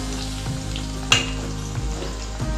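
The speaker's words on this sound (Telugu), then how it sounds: "ఇవి కాస్త ఫ్రై కానివ్వాలి" Cauliflower pickle ingredients frying in peanut oil, with a steady close sizzle, a low hum underneath and one sharp clink of a utensil against the pan.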